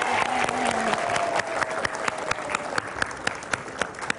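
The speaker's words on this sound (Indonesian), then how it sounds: "Tepuk tangan dong." A crowd claps steadily for a few seconds, the sharp claps fairly loud and continuous.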